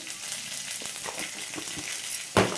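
Spice paste with turmeric and chilli powder frying in oil for a stuffed capsicum and tomato pakora filling, a close, steady sizzle broken by soft stirring taps and one louder scrape near the end, with no voices.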